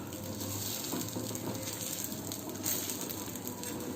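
Dosa batter frying in oil on a hot pan, a steady close sizzle and crackle running throughout with no voices.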